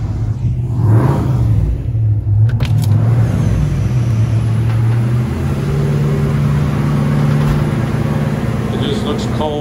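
A blown LT1 383 V8 runs steadily on a dyno, its loud, deep rumble holding at a constant idle-like drone throughout, with a brief metallic clatter near the start and a voice speaking over the engine noise.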